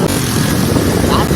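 A motorcycle engine in good running condition, heard up close and loud as a steady, rumbling drone, with some wind buffeting the microphone.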